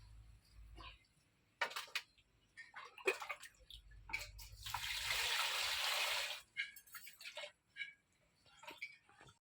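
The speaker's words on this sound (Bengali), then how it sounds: "এটা ভালো করে আমি ধুয়ে নেব" Fresh prawns being washed by hand in water: sloshing and splashing in bursts, with a sustained rush of running water in the middle, close and alone without talk.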